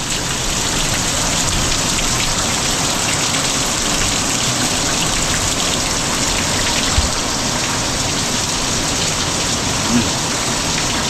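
Heavy rain pours steadily onto surfaces near a shelter, a dense, loud, unbroken hiss of drops with an occasional splash and no voices.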